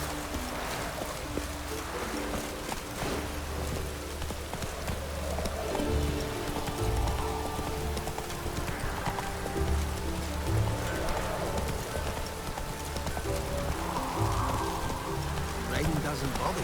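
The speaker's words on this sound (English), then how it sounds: "Looks like rain." Rain falls steadily in The Witcher 3 as a soft, continuous patter, with in-game voices speaking over it and low ambient music underneath.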